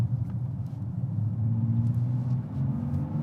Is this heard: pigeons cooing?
no